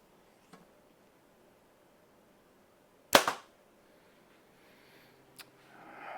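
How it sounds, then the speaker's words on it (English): A Darton Sequel 35 compound bow set at 70 pounds fires an arrow over a chronograph. It gives one sharp, close snap with a short rattle, followed by faint small clicks in a quiet room. "So let's shoot this bow over the chronograph."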